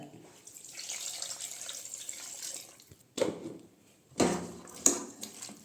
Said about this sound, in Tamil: இப்போ இது கூட ஒரு டம்ளர் தண்ணி ஊற்றிக்கோங்க